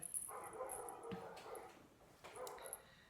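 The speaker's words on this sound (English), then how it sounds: "If that dog carries on, I'm going to shut the door." A dog outside barks and yips in a few scattered bursts, faint and at a distance, carrying through an open door into a quiet room.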